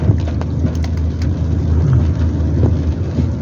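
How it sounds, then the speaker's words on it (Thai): Heavy rain pours down during a windy thunderstorm: a dense, steady roar of falling water runs unbroken throughout, with a low rumble underneath and no voices. "ตกมาพอดี ฝนตกแล้ว"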